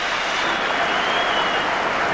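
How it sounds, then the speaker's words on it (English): Steady, broad roar of football crowd applause in a stadium as departing Celtic hero John Hartson is honoured at a Dundee United versus Celtic SPL match, continuous and fairly loud throughout. "There'll be warm applause too for the departing hero, John Hartson"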